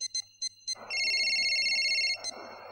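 Mobile phone ringing tone on a call: a few short electronic beeps, then a sustained bright, buzzy ring over a rushing background, ending in another beep.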